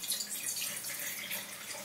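Akchurin Crimean muscat wine pours steadily into a glass, a close, continuous liquid splash and gurgle lasting a couple of seconds with no talk over it.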